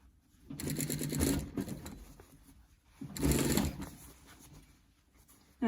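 A sewing machine stitches a fabric scrub hat band around a curve in two bursts of steady, rapid whirring, each lasting about a second or two, with quieter handling sounds between them.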